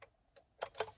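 Hazard warning lights on a Toyota Aygo tick inside the cabin, a few faint, sharp relay clicks spaced irregularly over a quiet background.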